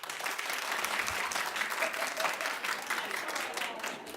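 Studio audience of a daytime talk show clapping steadily and fairly loud for about four seconds, a dense, even patter with no voices over it.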